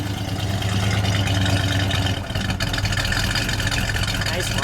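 A 1968 AMC AMX idles with a deep, steady exhaust rumble, loud and close, with a brief dip midway before the rumble resumes.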